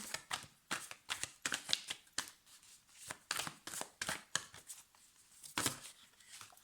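Tarot cards shuffled and drawn by hand in a quiet room, a rapid series of close, crisp riffling and slapping flicks in uneven bursts.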